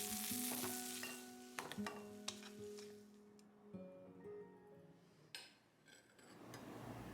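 Zucchini sautéing in hot oil, a steady frying sizzle with stirring scrapes and a few light clinks of utensils, close and continuous throughout with no talking.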